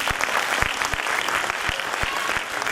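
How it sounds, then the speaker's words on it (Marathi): An audience at a public event in Solapur bursts into steady, loud applause, with dense clapping sustained throughout and a faint voice beneath. "त्यांच्यासाठी एकदा जरा जोरदार टाळ्या होऊन जाऊया."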